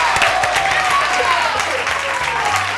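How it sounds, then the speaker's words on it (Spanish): Steady studio audience applause on a Spanish TV variety show, dense and continuous throughout with a host's voice faintly over it and low music underneath. "un aplauso para ellos"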